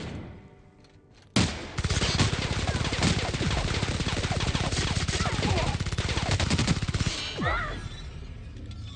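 Firefight gunfire in the video game The Outer Worlds, a sudden loud onset of rapid automatic bursts that hammers on without a break for several seconds, with metallic clangs mixed in and shouted voices underneath.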